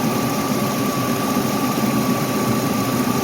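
Car engine idling, one that leaks oil and is running hot, giving a steady, continuous mid-pitched rumble with a constant hum throughout, close and fairly loud, with no talking.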